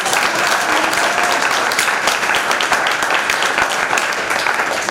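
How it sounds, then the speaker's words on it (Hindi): Audience applause at a Hindi-language Christian church sermon, dense and steady clapping from a large crowd filling the whole stretch at a loud, even level. "मेरे पौलुस के लिए दिल की धड़कनों से ताली बजाएंगे"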